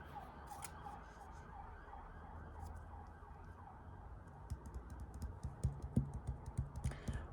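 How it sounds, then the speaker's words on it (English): A police car siren passes at a distance, faint and wavering under a steady background hiss, with light tapping clicks growing busier toward the end. No one speaks. "that police car just went flying past"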